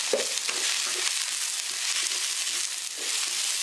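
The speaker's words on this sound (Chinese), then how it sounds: "搅拌均匀就能出锅了。" Stir-fried chicken shreds with cilantro, garlic shoots and egg being stirred in a wok: a continuous bright sizzle with repeated scraping and tossing knocks of the spatula, close and fairly loud.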